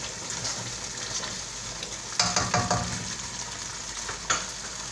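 Sausage frying in spaghetti sauce in a pan, giving a steady close sizzle with stirring scrapes and brief louder bursts partway through, no talk.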